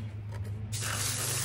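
A garden hose bursts on to a steady, hissing spray of water onto freshly dug dahlia tubers, close and continuous after a brief quieter start, with no talking.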